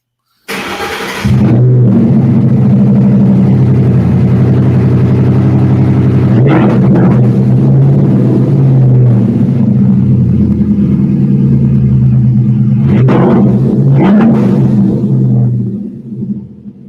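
A Ford Mustang Boss 302 V8 runs loud and close while up on jack stands, starting with a sharp burst and settling into a heavy, rumbling idle, with two brief revs partway through before it fades at the end.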